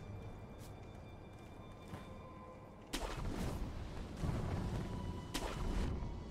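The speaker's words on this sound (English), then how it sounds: "I used the firecrackers." Firecrackers in the video game Sekiro: Shadows Die Twice go off in bursts of sharp bangs and cracks over a low background rumble, loud and fairly close.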